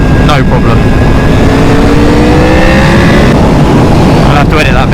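Motorcycle with its exhaust baffle fitted, revving hard and loud up close, the engine note climbing and falling in steady sweeps across the whole stretch, with brief blips of throttle near the start and end.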